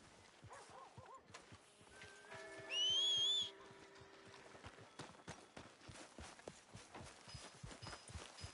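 Horse hooves clip-clop at a steady walking pace in the Western video game Red Dead Redemption 2, soft and close, with a sharp whistled tone rising in the middle of the passage.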